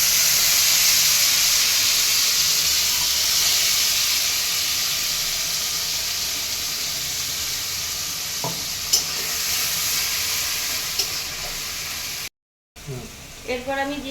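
Onion paste sizzles and hisses loudly in a hot pan with cinnamon and cardamom, with a few stirring scrapes, steady and close before a brief cut.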